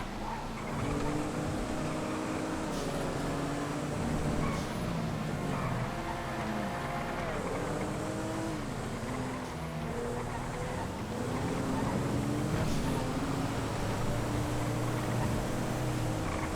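Scout car racing in GTA FiveM, its engine droning steadily with rising and falling gear sweeps, loud and continuous throughout with no speech.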